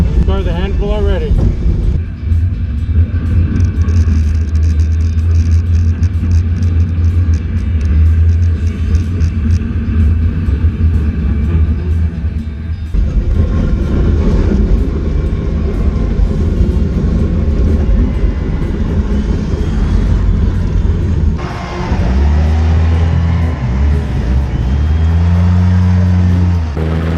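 Race car engines roar through a night skid plate demolition race, a continuous loud drone of revving motors with shifting pitch, and voices speaking over the racket.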